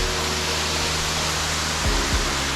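Waterfall in the La Plata Mountains, a steady broadband rush of falling water filling the scene at constant loudness, with two brief low thumps near the end.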